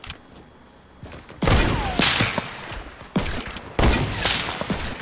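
Fortnite Battle Royale gunfire, several loud bursts of rapid shots with quieter gaps between them, close and dominant with no talking.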